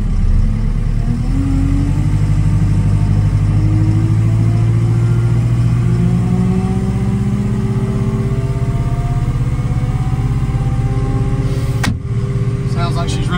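A truck engine idles and revs steadily up close, its pitch slowly rising and settling across the whole stretch, loud and continuous with faint voices underneath.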